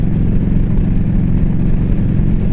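A Harley-Davidson Street Glide motorcycle engine running loud and close, a dense steady low rumble with a throbbing exhaust pulse that holds at a constant level, no speech.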